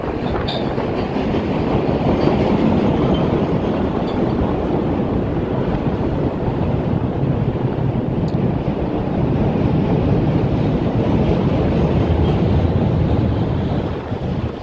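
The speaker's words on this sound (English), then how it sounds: "The train now is behind me." Train rolling past in snowy downtown Chicago, a steady loud rumble and rush lasting throughout, mixed with wind buffeting the microphone.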